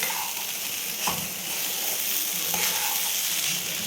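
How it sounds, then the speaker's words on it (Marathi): Kanda poha with chopped coriander tossed and stirred in a pan, a continuous soft frying hiss with a few scraping knocks of the spoon, heard alone and close. "सगळ्यात छोटी कोथिंबीर टाकायची आणि छान मिक्स करून घेते"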